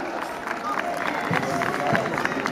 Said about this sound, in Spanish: ¡Fuertes los aplausos para esta institución educativa!